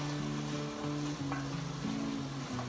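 Ground beef browning in a pan crackles in a dense, continuous sizzle that stays close and even throughout, with no voices over it.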